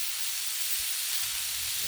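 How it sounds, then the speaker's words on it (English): Ground beef and chopped onion sizzle on a griddle turned down low, a steady close hiss of frying with no pauses and no voices. "This ground beef is cooking up fast."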